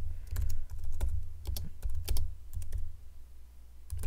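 Typing on a computer keyboard at a desk, a close, uneven run of sharp individual key clicks over a low steady hum, slow and irregular in rhythm.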